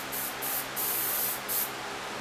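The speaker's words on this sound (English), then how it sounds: "I'm spraying again, still at 20 PSI." Paint spray gun set to 20 PSI hisses steadily and close by, with short bursts of stronger spraying, laying a light coat during a custom paint job.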